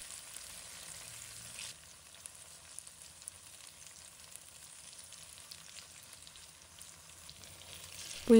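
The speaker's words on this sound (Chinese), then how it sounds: "一面煎金黄后，用锅铲小心翻面，让豆腐每一面都能均匀受热" Tofu pan-frying in hot oil, a steady faint sizzle running throughout with a soft clatter near the end as a spatula turns the pieces; no talking.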